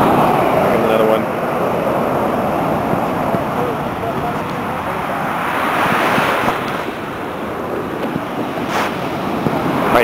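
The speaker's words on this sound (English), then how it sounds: "we're going to wait for one of these other big waves" Ocean surf roars continuously with waves washing and breaking, swelling louder midway, mixed with gusty wind buffeting the microphone.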